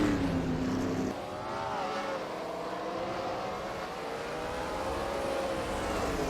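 Race cars roar around the Bowman Gray short track, several engines blending into a loud continuous drone with shifting, overlapping pitches as the pack circles together.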